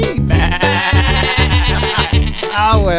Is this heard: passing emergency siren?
no